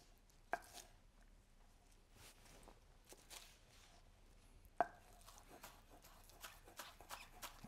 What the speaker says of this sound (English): Pinch them together so they don't run away when they get chopped.